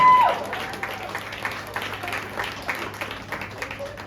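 A comedy club audience in Kalamazoo claps in a loose patter of applause that starts strong, then thins to scattered claps.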